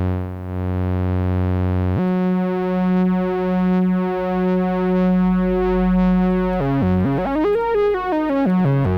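A Moog Grandmother analog synthesizer holds a bright, buzzy sawtooth tone rich in overtones, steady and loud, then swoops through quick pitch bends toward the end.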